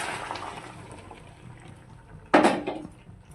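Hot water splashes into frying pork curry in a home kitchen pan, a sudden loud gush and hiss near the end after a quieter low sizzle, then tapering off.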